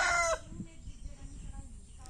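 A rooster's crow on a village farm ends in the first moment, leaving faint farmyard clucking and a low background murmur.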